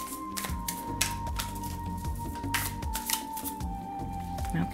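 Tarot cards shuffled in brief papery riffling bursts over steady background music with sustained tones and a soft beat.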